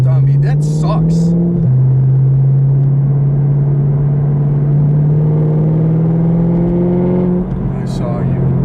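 A 2018 Camaro SS 1LE engine drones steadily while driving, its pitch climbing slowly after a quick shift drop early on. The sound is loud and continuous, with a few brief voices over it.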